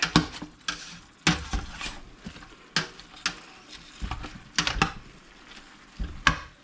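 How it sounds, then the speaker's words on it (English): Meat browning in a pot for homemade chili, stirred with repeated scraping, clattering strokes of a utensil against the pan in an uneven rhythm over a soft background sizzle, close and fairly quiet. "give it a good stir"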